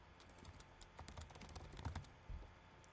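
Quick bursts of keystrokes on a computer keyboard, light clicks in uneven runs with short pauses, close and fairly quiet.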